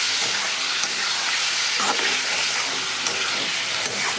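Eggs frying with spice masala in a pan, a constant loud close sizzle and hiss with faint stirring scrapes, running steadily throughout.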